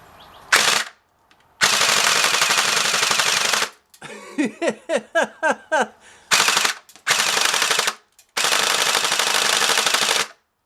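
A triple MP7 airsoft gun built into a G36C handguard fires BBs in long loud full-auto bursts with gaps between, including a stretch of choppy stuttering shots, close up.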